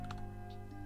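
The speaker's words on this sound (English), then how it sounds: "just typing in FFmpeg" Brief, quiet typing on a computer keyboard at a command prompt, a few soft close-up key clicks over steady background hum.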